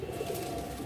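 Madrasi pigeons, a high-flying breed, give a brief, soft, low throaty coo close by.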